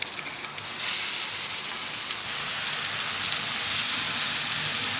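Pakoras fry in hot oil on a tava in a village kitchen, giving a dense, steady hiss and crackle of bubbling oil that holds throughout with no voices.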